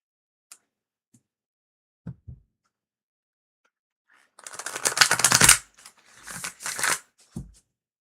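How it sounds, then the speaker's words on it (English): Tarot cards being shuffled at a live reading, with a dense riffling burst followed by a couple of shorter shuffles and a few faint taps around them. "That's a better shuffle."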